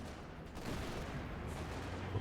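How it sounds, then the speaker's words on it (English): A mortar half-track barrage in a WWII real-time strategy game, a dense wash of muffled explosions and rumbling fire, steady and moderately loud with no distinct single blasts. "There'll be another barrage possibly for the mortar half track"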